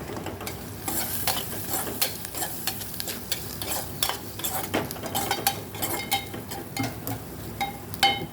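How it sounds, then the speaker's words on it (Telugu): Goat tripe curry fries in oil with a soft bubbling sizzle under repeated clinks and scrapes of a spoon stirring against the pot, irregular and close. "ఈ అజర్ఖానా అనేది కర్రీ ఆయిల్లో మంచిగా ఉడికి ఫ్రై అవుతుందండి"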